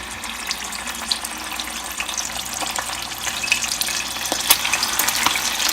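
Cheesy bacon poppers drop into preheated oil and fry with a steady, crackling sizzle that builds slightly and has small pops scattered through it. Nobody speaks.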